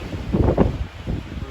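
Gusty wind in the Tonto Forest buffets the microphone outdoors, a loud, rumbling roar that surges and eases over a second and a half.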